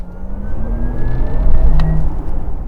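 A rising electric whine from a 2021 Porsche Taycan RWD's electric motor, with gliding tones climbing in pitch over a low rumble, fairly loud and close.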